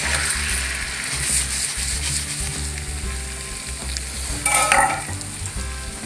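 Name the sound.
omelette frying in oil in a pan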